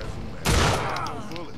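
A short burst of gunfire goes off in the post-apocalyptic video game I Am Alive, with a loud sharp blast about midway and a fading tail over low background sound.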